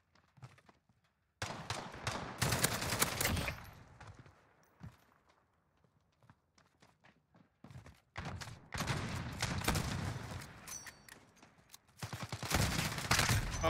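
Gunfire in a multiplayer shooter game, including a sniper rifle, comes as sharp bursts and rapid volleys separated by quieter gaps, with a few softer steps in between and no talk.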